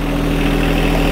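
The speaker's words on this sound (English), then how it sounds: "you're gonna wanna start the tractor" A John Deere compact tractor engine idles steadily with a low, even rumble and vibration, close and loud throughout with no talking.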